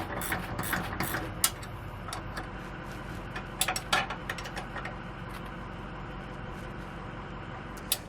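Wrench and ratchet tightening bolts on a SumoSprings Rebel helper spring bracket of a 2019 Coachmen Mirada motorhome, giving quick metallic ticking clicks in bursts over a steady background hum, with a few sharper knocks.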